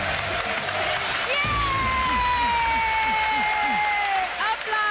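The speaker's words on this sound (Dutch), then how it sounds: "Applaus voor de mannen" Applause and cheering for a group of boys during a lively game show-style contest, with crowd noise mixed under loud, excited, sing-song voices and shouting throughout.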